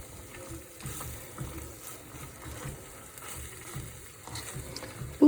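Food sizzles and crackles steadily in a hot pan as it is stirred at home, a continuous frying hiss with soft irregular scraping pulses and no voices.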